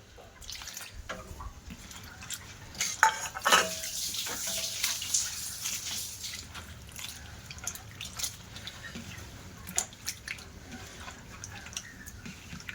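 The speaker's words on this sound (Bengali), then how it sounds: "চিড়েটা দেখো পরিষ্কার করে জল দিয়ে আমি ধুয়ে নিয়েছি" Flattened rice (chira) being rinsed with water in a bowl: irregular splashes and drips, loudest in a cluster around the middle, then fainter sloshing with occasional drops, fairly close and without talk.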